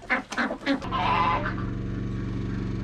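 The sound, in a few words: farm animals: chickens, roosters, ducks and goats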